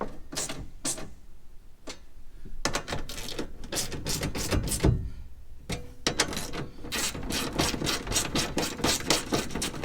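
Fasteners are tightened on a Molle window side panel inside a JB74 Suzuki Jimny: irregular clicking, ratcheting and rubbing bursts, near and fairly loud, with short pauses between runs of rapid clicks and no speech.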